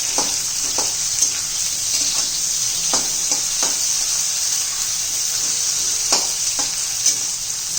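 Onion and green chilli sauté in hot oil with a steady, close sizzle while a spoon occasionally scrapes and taps the pan, no one speaking.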